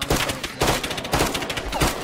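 Rapid bursts of gunfire from the game ARMA 3 crackle in repeated volleys, loud and close, with sharp cracks recurring every half second or so and no talking.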